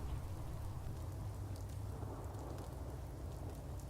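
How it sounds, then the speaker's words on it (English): Rain falling in London within the Fallout London video game, a steady, even hiss of rainfall with a low rumbling bed underneath, faint and continuous with no talk. "And of course it's raining."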